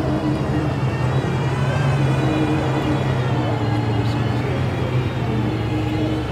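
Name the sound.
Aston Martin Valkyrie supercar driving past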